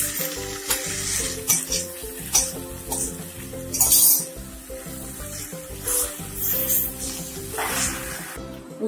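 Cooked drumstick pieces go into a pan of masala for a drumstick masala dosa, setting off a steady close sizzle with bursts of stirring and scraping.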